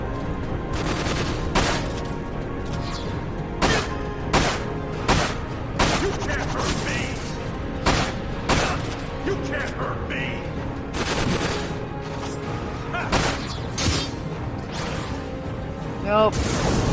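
The Death Sentence gun fires repeatedly during a video game fight, sharp blasts arriving in irregular bursts roughly every second or two over a dense, constant layer of game noise and effects.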